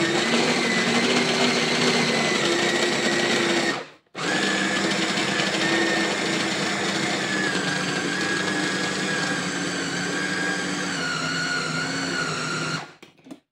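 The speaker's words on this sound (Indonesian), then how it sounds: "Chopper ini adalah blender yang tanpa apa namanya air ya" A loud electric food chopper whirs steadily at high speed while making potato perkedel, stopping briefly for a moment before starting up again and running on without talk.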